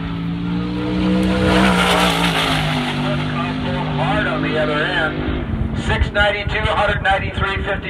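Drag racing car making a full pass at Tucson Dragway, a loud sustained engine roar with shifting pitch sweeping past, heard alongside an announcer's commentary and wind buffeting.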